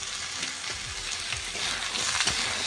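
Sliced onion, radish and potato fry in hot oil in a pan, giving a continuous close sizzle with soft crackles and light stirring. No voices are heard.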